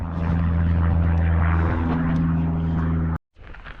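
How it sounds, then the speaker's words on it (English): A propeller airplane drones loudly and steadily close overhead, a deep humming engine tone that cuts off abruptly near the end. "And there's a fucking aeroplane. Fuck off, you noisy fucker."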